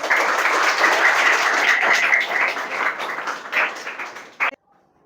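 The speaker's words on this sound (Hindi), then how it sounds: "ताली बजाओ।" Schoolchildren in a Bihar government school classroom clapping together, a dense, steady burst of many small hands that tapers off and stops abruptly, leaving near silence.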